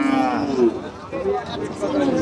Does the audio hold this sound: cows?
yes